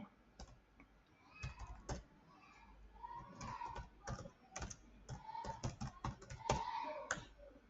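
A computer keyboard clatters with a password being typed, quiet, irregular clusters of close key clicks and taps in an otherwise hushed room.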